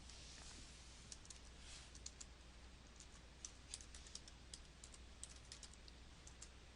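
Quiet typing on a computer keyboard: a steady run of light, closely spaced key clicks with small irregular pauses over faint background hiss.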